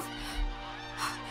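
Geese crowd together honking, two or three nasal honks over a low, steady background hum, close by and moderately loud.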